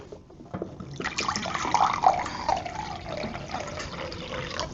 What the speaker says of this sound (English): I'm gonna put that inside, and I'm gonna add in some water.